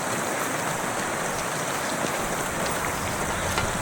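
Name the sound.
rain in video game Kingdom Come Deliverance 2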